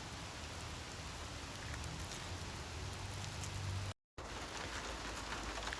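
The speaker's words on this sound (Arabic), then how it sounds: "هذه أمطار الصيف" Summer rain falls steadily in a continuous even hiss with a faint patter of drops, quiet and unbroken apart from one brief dropout.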